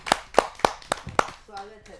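Five sharp, evenly spaced hand claps ring out at a Hindi kavi sammelan as poet Priya Tayal is welcomed, close and distinct like a small group clapping in time. A voice follows right after.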